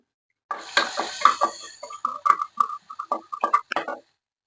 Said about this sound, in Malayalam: ഇനി നമുക്ക് കടുക് പൊട്ടി വന്നിട്ടുണ്ടല്ലോ, കുറച്ച് ഇഞ്ചിയും വെളുത്തുള്ളി ഇട്ട് കൊടുക്കാം.